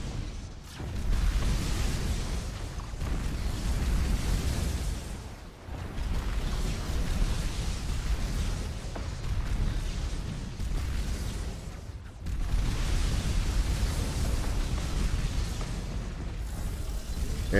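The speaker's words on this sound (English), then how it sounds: "That was a big explosion." A big explosion in a space battle in the Master of Orion video game, heavy rumbling blasts forming a sustained dense roar with brief dips, loud and continuous, with no talk.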